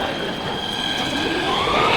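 A train in Nuremberg, Germany, rolls past close by and loud, its wheels squealing in a sustained high screech over a rumbling, rattling undertone, with no talking.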